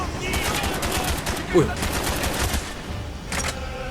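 Gunfire in Call of Duty Black Ops, rapid bursts of automatic fire crackling almost continuously with a short burst near the end, a voice briefly heard mixed in.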